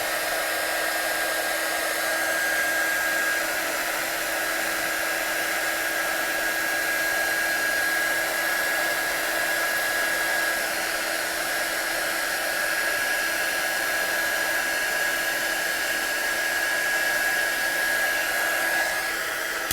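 Heat gun blowing hot air steadily for heat embossing on a Christmas stamping and watercolour craft project, a continuous close whooshing drone with a faint high whine, running alone the whole time.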